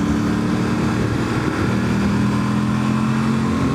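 Yamaha Tenere 700 motorcycle (2025) with stock exhaust, cruising in fifth gear at 5,500 RPM: a steady, loud engine drone with a constant low hum and wind noise, no voices.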